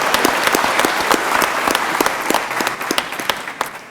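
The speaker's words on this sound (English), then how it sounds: "let's give them a huge round of applause for the great things that they do every single day" An audience at a county commissioners' court session applauds educators, steady dense clapping with sharp individual claps throughout, moderately loud and close.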